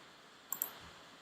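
A computer mouse gives two quick, faint clicks in succession over a quiet background hiss.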